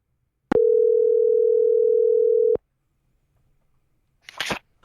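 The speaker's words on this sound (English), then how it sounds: "Let's call up our friend Ken Bruner" A steady electronic telephone tone holds for about two seconds and stops abruptly, followed by a short noisy burst after a pause.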